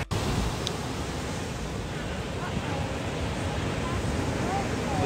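Ocean waves wash against rocks at Bali, a steady broadband rushing surf with no distinct breaks, moderately faint and continuous throughout.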